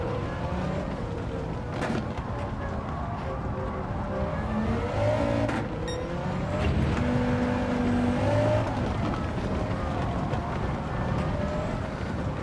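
Engine of a 788hp MK1 VW Golf GTI in Gran Turismo 7 on the Nordschleife drones steadily and loudly, its pitch rising and falling as the car accelerates and eases off through corners.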